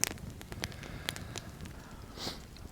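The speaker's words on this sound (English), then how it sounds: "The fire has been going for quite a while now" A campfire at a wild hammock camp burns after rain, with faint scattered pops and crackles over a quiet background.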